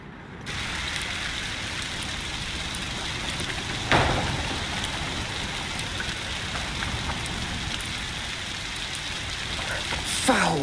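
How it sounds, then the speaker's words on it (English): Steady heavy rain hisses continuously in the video game A Plague Tale: Requiem, with a faint mechanical clatter and a brief sharper burst partway through. "Foul rain."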